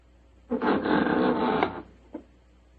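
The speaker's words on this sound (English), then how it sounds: "There goes the front door." A front door opening as a radio drama sound effect in an old-time Sherlock Holmes broadcast: a loud creaking, grinding sweep lasting about a second, followed by a brief faint knock or thud, with no voices.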